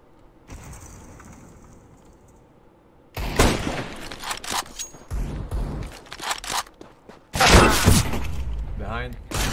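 Rapid gunfire and sharp impact cracks from a CS:GO match, several dense bursts over a quieter stretch, loud and close, with game noise and voices mixed in.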